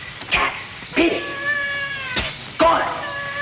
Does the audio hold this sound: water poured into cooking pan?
no